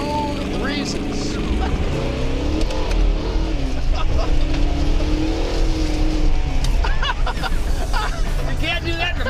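A muscle car nicknamed the Motor City Madman roars and revs hard, engine pitch climbing and falling in loud surges close by, with excited voices talking over it.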